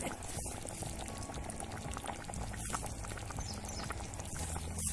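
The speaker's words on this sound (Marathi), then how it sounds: "आता त्याच्यात पाण्यात कालवून, गार पाण्यात कालवून त्याच्यात घातलं म्हणजे रसा मिळून येतो" Flour slurry mixed in cold water poured into a bubbling pot of traditional village-style chicken curry, giving a steady close liquid pour and simmering sound throughout without speech.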